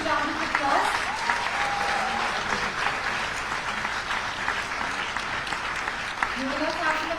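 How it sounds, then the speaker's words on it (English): An audience at the first Arun Jaitley Memorial Debate applauds the award winners, a sustained dense clapping from a large crowd with a voice speaking over it. "give a huge round of applause"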